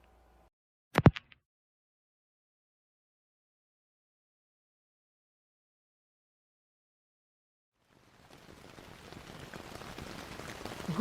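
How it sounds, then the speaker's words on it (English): A heavy downpour of rain drums on a tarp. It follows a single sharp click and long silence, then rises faintly and grows steadily denser and louder toward the end. "This downpour keeps getting more and more intense by the hour."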